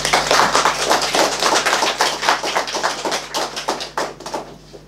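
Audience applause after a performance: dense, steady clapping from many hands, fairly loud and close, thinning slightly toward the end.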